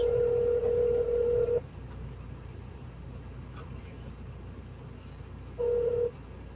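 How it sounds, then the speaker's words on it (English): A telephone line tone sounds as a caller is dialed into a live sports talk show, two steady beeps, the first lasting about a second and a half and a shorter one near the end, over low background hum. "Call in Detroit Dupes."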